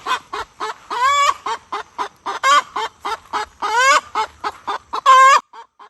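Close rooster calls repeat in a rapid, agitated series of loud squawks and clucks, with a few longer rising cries mixed in.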